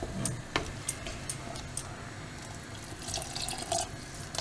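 Water poured from a vessel into a pot of simmering black-eyed pea curry with bottle gourd, a soft splashing trickle with scattered drips and light clinks of metal, fairly quiet.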